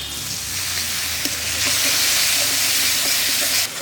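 Water splashed onto chili, cumin and coriander powder masala frying in oil for mutton kosha, a loud steady steam hiss and sizzle that rises and holds for a few seconds before cutting off.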